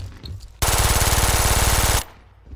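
Machine pistol in the video game Brink firing one loud, rapid, unbroken burst of about a second and a half, with close, evenly spaced shots and an abrupt stop, then quiet.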